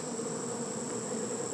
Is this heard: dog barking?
no